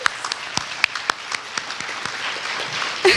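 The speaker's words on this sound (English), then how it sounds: "And everyone give her a round of applause for a successful show." Scattered clapping from the audience at a Bharatanatyam arangetram dance show, a sparse few hands clapping in uneven, distinct claps, fairly close and building slightly toward the end.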